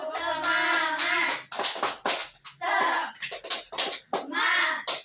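A class of children performs a rhythmic spirit clap, sharp hand claps alternating with loud chanted voices in a close, lively classroom.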